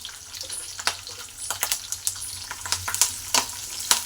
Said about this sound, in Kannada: ಚಟ ಚಟ ಅಂತ ಇದೆ ಕರಿಬೇವು